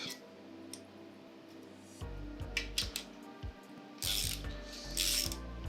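Bolts on a Nissan 350Z intake plenum being tightened, heard as close ratcheting clicks in short bursts with brief metallic ticks and rattles between them, no talking.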